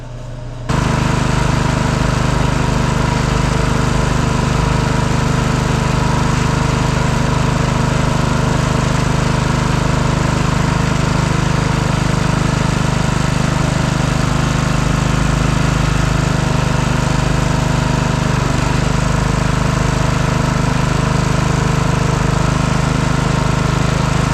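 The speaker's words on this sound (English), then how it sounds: "It is just a lawnmower." A riding lawn mower engine, just fitted with a swapped pulley, runs loud and steady close by after a brief quiet start, a constant rumbling drone with no speech.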